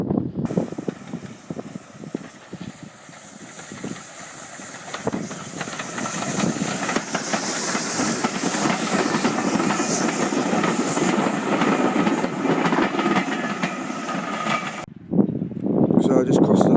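A steam train on the Isle of Wight Steam Railway rumbles past close by, its loud hiss and rolling clatter building steadily for several seconds before cutting off abruptly.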